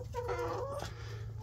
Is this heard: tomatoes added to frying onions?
no